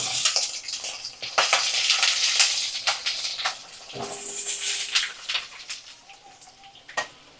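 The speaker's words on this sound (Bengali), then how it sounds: "বড় বড় আলু আমি কড়াতে দিয়ে দিলাম তেলের মধ্যে তো ওই আলুগুলো আমি ভাজা করে নেব" Steady sizzling and crackling of large potato pieces frying in hot oil in a kadai, close and continuous, with a few clinks and faint background sounds.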